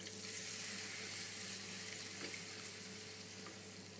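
Chopped, peeled tomato puree goes into frying masala for rajmah, giving a soft, continuous sizzle with a watery edge, fairly quiet and steady, with no talking.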